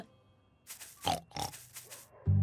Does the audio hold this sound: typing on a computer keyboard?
no